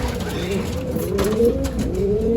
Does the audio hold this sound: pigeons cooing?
yes